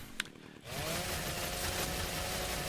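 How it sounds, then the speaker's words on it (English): In the game Ark, a chainsaw revs and then holds a loud, steady buzzing drone while it cuts into a downed sheep to harvest it, after a brief quieter moment at the start. "I'll show you what a chainsaw does with these guys too."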